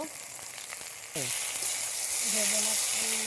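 Pieces of already-fried fish drop into hot oil in a pan for a fish curry, the sizzle jumping suddenly louder and then hissing steadily, with faint clatter of the spatula.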